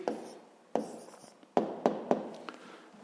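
Pen writing the answer to a floor-area math exercise, a run of close, faint scratchy strokes with several sharper taps where the pen lands, heard alone.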